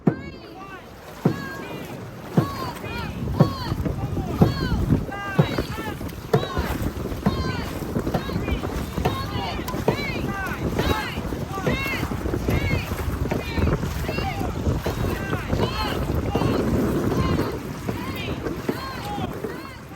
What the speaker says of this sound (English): We dig our paddles in, giving it everything we've got. The boats surge forward, spraying at every wake